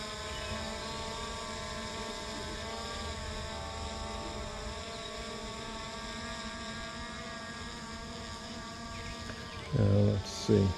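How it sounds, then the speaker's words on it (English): A Skydio 2 drone hovers and shifts overhead with a steady, high-pitched multi-tone whine that holds across the whole stretch, and a short louder burst of nearby noise comes in near the end. "the drone is moving around up there some"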